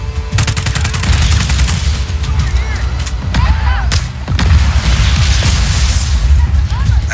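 Just Cause 4 combat as the wind cannon's rear intake fan is destroyed: loud, dense gunfire with heavy booms and crashing impacts running continuously from start to finish.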